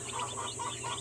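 Newly hatched free-range chicks peep steadily in a busy chorus, many birds chirping at once at close range, with a low hum running underneath and no talk.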